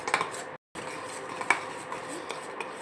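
Masoor dal and orange peel powder being stirred in a bowl with a spoon for a homemade skin soap or face pack, steady soft scraping and light clinks of metal against the dish, with a brief pause partway through.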